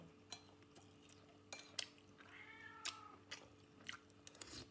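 A cat meows faintly in a quiet indoor room while soft clinks of dishes and chewing sounds come and go close by.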